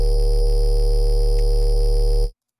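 A thick, buzzing peekaboo-style noise bass synthesized in Vital holds steadily at high volume for about two seconds, then cuts off abruptly into silence.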